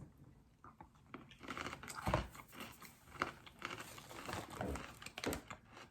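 Crunching and chewing of small cheesy pretzel bits during a snack taste test, a steady run of close, crisp bites and chews with louder crunches around two and five seconds, no talking.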